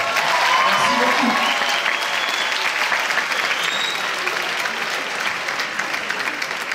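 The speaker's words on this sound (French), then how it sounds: "toute l'équipe du Trésor, là, vous êtes obligés de les applaudir" A large crowd at a Paris film premiere in the Grand Rex cinema applauds the film's team, a loud, dense, sustained clapping that holds steady for several seconds, with whoops and voices mixed in beneath it.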